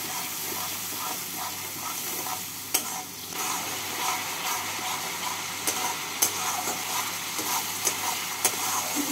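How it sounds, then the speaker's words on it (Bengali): Tomato masala with water and sugar stir-fried in a pan for a potato and pabda fish curry, a continuous busy sizzle broken by frequent scraping strokes of the spatula, no voices. "এবার এই মশলাটাকে ভালো করে কষিয়ে নেব।"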